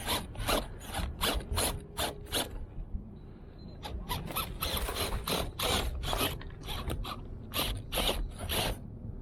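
A small RC crawler's electric motor and gearing strain in repeated short bursts, whirring and ratcheting on and off in a choppy rhythm, close and fairly loud.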